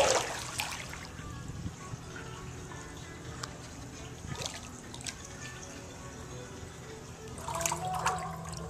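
Water drips and trickles at an outdoor hot spring bath in the snow in Niseko, Japan, with soft splashes and a steady watery wash, a little louder at the start and near the end.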